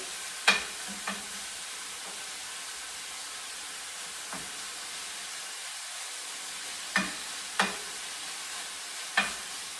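Beef fries in a pan for a celery and beef stir fry. A soft, constant sizzle sits under a few sharp, scattered clicks and taps of a utensil against the pan.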